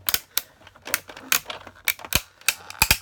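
A die-cutting machine punching word shapes out of thin wood, giving sharp, irregular snapping clacks in quick succession, loud and close with no talking.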